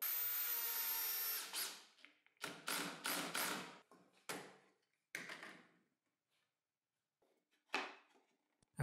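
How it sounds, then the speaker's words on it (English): A power drill drives screws into glued wooden frame parts for a folding outfeed table, a long whir followed by several short bursts and pauses, close and loud. "I apply some wood glue and place the screws."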